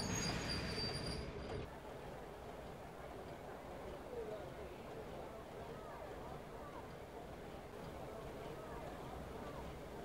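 A train in the Train Simulator 2015 game brakes toward a stop, giving a steady rumbling rail drone with faint wheel squeal that stays low and even after a brighter opening moment.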